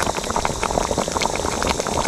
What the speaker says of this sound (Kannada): ಒಳ್ಳೆ ಕುದಿ ಬಂದಿದೆ, ಇಷ್ಟಾದರೆ ಸಾಕು.